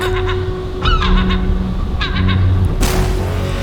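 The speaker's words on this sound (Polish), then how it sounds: "Marcin, przecież to tylko ptaki." Loud, honking gull calls repeat in quick bursts, harsh and nasal, several gulls calling close by over a steady background noise.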